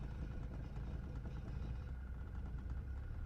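A Mercedes 240D diesel engine idles with a steady, low, faint rumble and no distinct change in pitch or rhythm.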